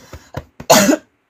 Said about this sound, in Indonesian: kewalat aku jadi batuk kan